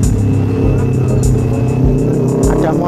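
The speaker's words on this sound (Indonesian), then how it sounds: "ada motor balap lewat" A racing motorcycle passes by outdoors, a loud engine roar with revving surges that rises and fades over a few seconds, with no talk heard.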